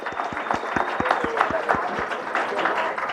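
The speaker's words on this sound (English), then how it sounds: "Let's have one more round of applause for these students." A roomful of people at a school board meeting applauds students, a moderately loud, dense patter of clapping with some distinct nearby claps, while voices murmur underneath.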